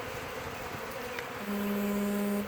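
A dense, agitated buzzing of many honey bees in a robbing frenzy swells, with a sharper, louder drone cutting in near the end.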